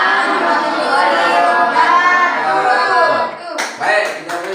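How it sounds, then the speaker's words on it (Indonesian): Group applause for a student team that has just finished a class presentation, steady clapping from a roomful of people filling the space at close range, tapering into a few scattered claps at the end. "kita beri tepuk tangan kepada kelompok 3 yang sudah menyampaikan presentasinya"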